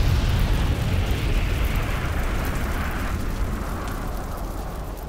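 A cauldron burning with fire in the video game Elden Ring, a loud, rushing roar like a blaze that starts strong and slowly eases over a few seconds.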